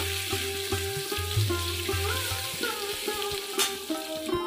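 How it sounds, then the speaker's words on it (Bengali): Garlic paste frying in oil in a pan, a steady close sizzle with stirring and some background hum and tonal noise, no talk. "রসুনটা ভাজা হয়ে গেছে"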